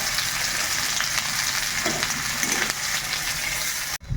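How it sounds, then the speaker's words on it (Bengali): Chopped onion frying in hot mustard oil in a wok, a loud, even, continuous sizzle with a few soft stirring scrapes, ending abruptly near the close, no speech. "তেলটা গরম হয়ে গেছে, এখন কিন্তু এই তেলের মধ্যে আমি দিয়ে দেবো পেঁয়াজ কুচিটা।"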